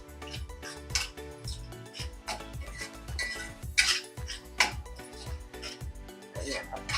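A metal spoon clinks and scrapes against a pan while goda masala is mixed into a Maharashtrian bhogichi mixed vegetable bhaji, with irregular, close taps and rattles.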